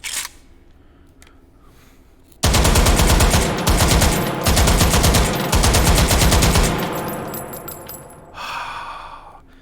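Sustained automatic fire from a Finnish AK rifle set on its bipod inside the VR shooter H3VR: loud, rapid bursts hammering for about four seconds with brief gaps between them, then a mechanical rattle as the firing stops.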